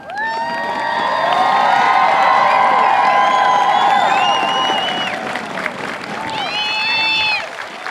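At an Air Force basic military training parade, a large crowd applauds veterans with sustained clapping, cheers and high whoops that swell and then ease off.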